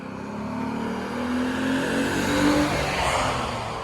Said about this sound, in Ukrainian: ще якби тут тишина була, а то траса шумить